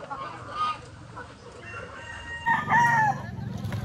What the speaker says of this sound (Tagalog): So patitingnan din natin yung rooster mga ka-farmers